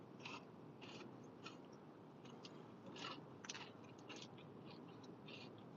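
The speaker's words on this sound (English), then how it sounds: "the crunch to this is amazing." Crunchy Long John Silver's fried food being chewed close to the mic, irregular crisp crunches spread across a soft, steady background hiss with no talking.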